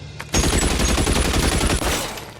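Rapid automatic gunfire in L.A. Noire, a loud close burst of closely spaced shots lasting about two seconds and then tailing off, with no talk over it.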